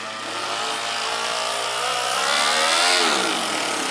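A Toyan RC crawler kit fitted with a manual gearbox runs in its highest gear, giving a steady, close electric whine with a buzzy motor-and-gear tone that swells gradually, with no talk over it.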